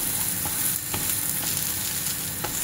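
Sweet potato thalipeeth frying in ghee on a pan, a steady close sizzle with faint crackles and soft taps throughout, no voices.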